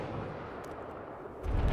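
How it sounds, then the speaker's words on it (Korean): A single sudden sniper gunshot in a Korean film about a North Korean coup, a loud low boom arriving near the end after a stretch of quiet ambience. "느닷없이 울리는 총성"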